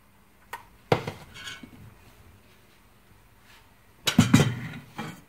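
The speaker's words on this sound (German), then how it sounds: "Dazu geben wir ein bisschen von dem frisch geschnittenen Mango auf den Teller." Fresh cut mango and red lentil coconut curry soup being served onto a plate, with a few soft clinks and scrapes of a utensil against the dish, two short bursts separated by a quiet pause.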